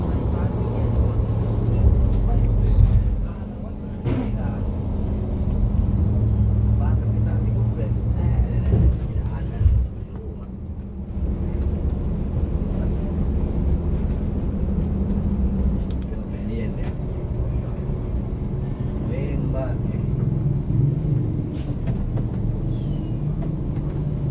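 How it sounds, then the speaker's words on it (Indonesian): Inside a moving Pita Trans intercity bus on a Sulawesi route, a steady, heavy engine and road rumble fills the cabin, with a brief dip partway through. "Sekarang saya coba jalan di atas bus ya."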